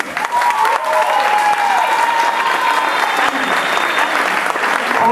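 Loud, close audience applause at a graduation ceremony, continuous and dense clapping with faint voices and a whistle-like tone threading through it.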